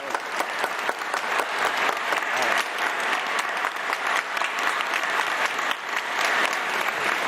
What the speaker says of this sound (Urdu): اسٹوڈیو میں تالیاں بھائی بجاؤ